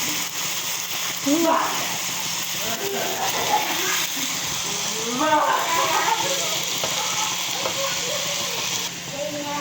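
Oily sizzling and crackling of talakitok (trevally) fish frying in a pan, steady throughout with faint scraping, under occasional soft talk.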